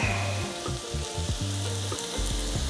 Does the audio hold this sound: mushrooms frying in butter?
yes